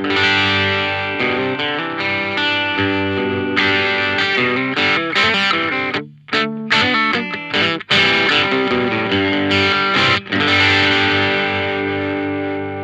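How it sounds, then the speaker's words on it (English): An electric guitar played through a soft-clipping, low-gain overdrive pedal rings out in sustained chords and picked notes, with a few short pauses between phrases, close and loud with no talking. "which is just a really nice soft clipping, low gain overdrive"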